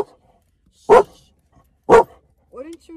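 A dog gives two loud, sharp barks about a second apart, followed by a short whimpering yip near the end, with no talk over it.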